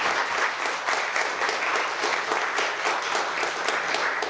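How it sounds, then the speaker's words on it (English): Sustained applause from a storytelling-evening audience, dense and steady clapping filling the room for several seconds with no voices over it. "So let's clap for Kim again."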